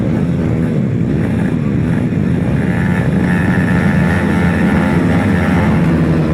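Several grasstrack racing motorcycles roar away together from the start of a race, a loud, continuous engine drone that holds steady throughout.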